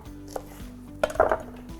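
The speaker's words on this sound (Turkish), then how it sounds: "Son kalan kırmızı biberlerini de doğrayayım." A knife chops red peppers on a cutting board in a home kitchen, a few close, sharp cuts clustered near the middle of a short, otherwise quiet moment.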